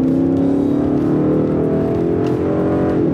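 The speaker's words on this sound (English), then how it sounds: "You cannot beat a V8 sound, and this certainly" A Ford Mustang GT's V8 engine revs loud and close, a deep throbbing roar whose pitch shifts slightly as the throttle changes.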